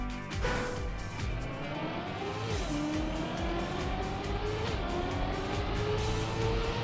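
In a racing video game, a race car's engine whines and climbs in pitch while tires squeal and skid under braking, loud and continuous throughout, with no talking.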